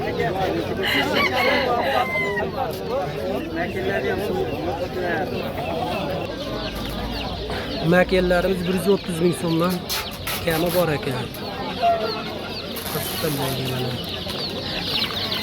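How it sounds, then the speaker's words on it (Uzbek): A young rooster crows and clucks amid other chickens at a Namangan poultry market, several crowing bursts rising over constant clucking and a crowd of voices talking close by. "Jo'ja xo'roz ekan mana."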